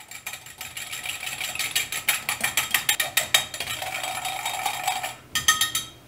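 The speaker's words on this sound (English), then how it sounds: "I'm just gonna use my same whisk and whisk these for a good minute." Eggs whisked by hand with a metal whisk in a bowl for gluten free cream puffs, giving rapid, rhythmic clinking strokes that run steadily throughout at close range with no talking.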